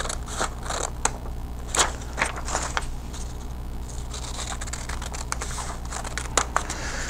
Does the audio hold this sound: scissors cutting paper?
yes